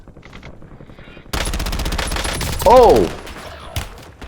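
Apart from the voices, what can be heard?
gunfire in Warzone video game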